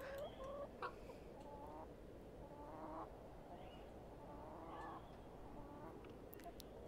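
Hens and roosters cluck repeatedly in The Excavation of Hob's Barrows, short bursts of clucking and calls spread across a quiet, steady background.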